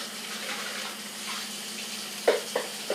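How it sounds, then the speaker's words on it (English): A little water pours from a kitchen tap into a pan while Puerto Rican style fried rice cooks, a soft steady trickle with a few brief clinks near the end, no speech. "Add a little bit of water."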